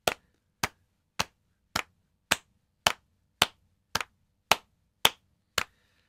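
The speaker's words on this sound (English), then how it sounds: "If we just try clapping together and see how well we can clap together." Eleven crisp hand claps ring out in an even, steady rhythm about half a second apart, close and loud with near silence between each clap.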